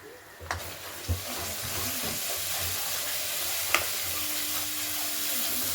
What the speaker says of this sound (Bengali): তারপরে 1 চামচ মতন হলুদ গুঁড়ো দিয়ে ভালো করে কষিয়ে নেব।